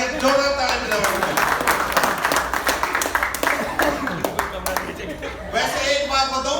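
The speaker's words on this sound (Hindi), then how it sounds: "बहुत बढ़िया, जोरदार ताली बजाओ।" Audience applause at a comedy laughter show for a couple, a dense patter of clapping hands running throughout under a loud voice talking over it.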